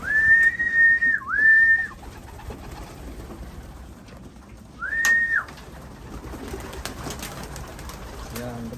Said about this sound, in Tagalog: Nandito na yung mga ibon.